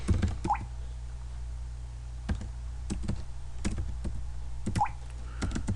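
Keys clacking on a computer keyboard while a firewall-cmd command is typed on a Red Hat Enterprise 7 system, arriving as irregular bursts of close clicks and separated by short pauses over a low steady hum.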